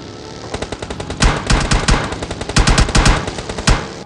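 Heavy automatic gunfire in PUBG, loud close bursts of rapid shots in several rattling strings with brief gaps, with no talking.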